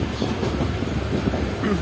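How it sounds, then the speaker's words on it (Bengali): A moving passenger train leaving Krishnanagar City Junction rumbles steadily with low, continuous rolling noise, heard from inside a crowded carriage; faint voices can be heard in the background. "আমাদের ট্রেন ছেড়ে দিল Krishnanagar city junction rail station থেকে"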